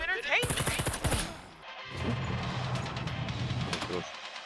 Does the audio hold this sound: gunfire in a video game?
yes